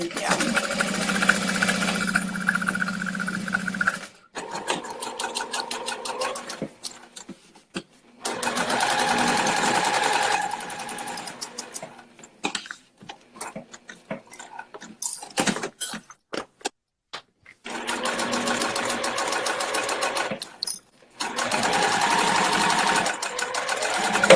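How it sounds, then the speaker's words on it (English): A domestic sewing machine top stitches along green accent fabric on a bag, running in loud, steady bursts of stitching broken by short pauses and handling clatter. "I like to top stitch on the accent fabric."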